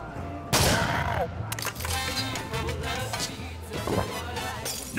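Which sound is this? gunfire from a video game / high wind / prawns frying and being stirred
gunfire from a video game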